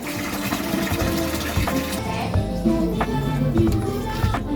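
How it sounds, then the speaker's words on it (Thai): Water pours to top up a home fish tank, a continuous close splashing fill with scattered knocks and clunks over it. "เราก็จะเอาน้ำในนี้มาเติมอ่างหรือมาเปลี่ยนน้ำปลา"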